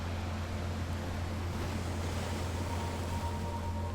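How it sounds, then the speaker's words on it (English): Continuous low roar of surf, a steady wash of breaking waves with a deep rumble underneath, no voices. "the sound of the waves creates a soothing rhythm in the background"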